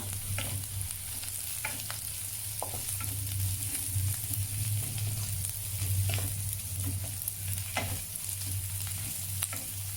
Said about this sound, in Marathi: त्यात आपण जो लसूण होता तोही ऍड करून घेऊया, ठेचलेला तोही छान परतून घेऊया